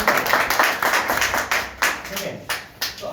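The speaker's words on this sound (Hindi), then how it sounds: "और एक बार मैं चाहता हूँ उनके लिए जबरदस्त तालियां" An audience at a training meeting claps in a brisk burst of overlapping handclaps, close and fairly loud, with a voice talking over the applause.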